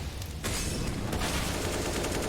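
Dense, continuous gunfire rattles through a Counter-Strike match on the Nuke map between Heroic and Astralis, loud bursts overlapping almost without pause for the whole stretch.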